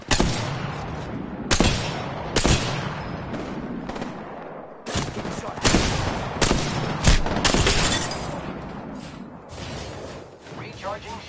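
Repeated loud gunfire from a firefight in the battle-royale shooter Apex Legends, with sharp single reports and rattling automatic bursts spread across the stretch, mixed with in-game voice lines.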